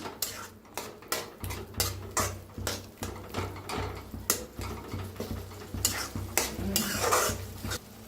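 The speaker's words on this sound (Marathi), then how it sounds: "बारीक गॅस करून भाजायला ठेवलेला आहे मी." Potato and cauliflower gravy for aloo gobi sizzles steadily in a pan over a low flame, with repeated stirring clatter and spoon scrapes against the metal pan close by, and no talking.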